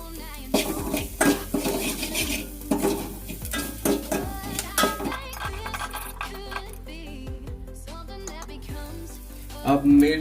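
Mustard seeds, turmeric and garlic sizzling in a pan while being stirred, with repeated metallic scrapes and clinks of a utensil against the pan over a soft frying hiss, a voice speaking in between.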